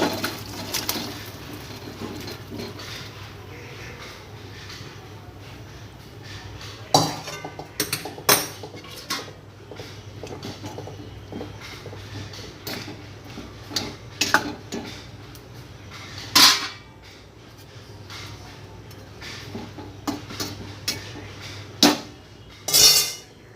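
Hilsa fish curry is poured out of a pot in a Bengali home kitchen, with scattered metallic clinks and scrapes of pots and utensils, some sharp and close, over a steady low background, with no talking.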